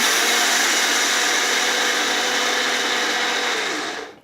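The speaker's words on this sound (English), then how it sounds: "this is kind of a coffee grinder, so I'll just blend it and wait a second" A loud, steady whir from a small electric coffee grinder blending linseed for a green smoothie, running continuously for about four seconds before spinning down and cutting off at the end.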